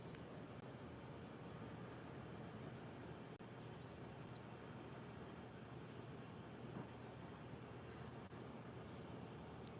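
Insect buzzing outdoors in a yard during a yard sale, a faint, steady rhythmic chirring pulse that repeats evenly in the background over quiet ambience, continuing for several seconds.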